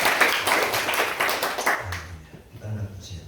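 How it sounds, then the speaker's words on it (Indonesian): Church congregation clapping and applauding after a sermon, a dense wash of claps that thins out partway through as voices and music-like tones take over near the end. "Berikan tepuk tangan"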